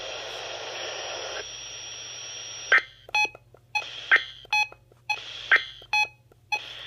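Weather radio alert tones from a required weekly test on station WXM60: a stretch of hissing static followed by a series of short, evenly spaced electronic beeps.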